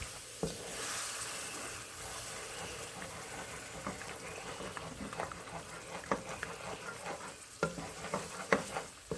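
Heavy whipping cream is poured slowly into a hot pan of browned ingredients for a Brussels sprout casserole and stirred, giving a soft steady sizzle with scraping spoon strokes and occasional clinks, fairly quiet and close.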